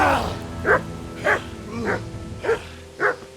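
Dog barking in the medieval video game Kingdom Come: Deliverance, five sharp barks at a steady rhythm over a busy background of game sounds.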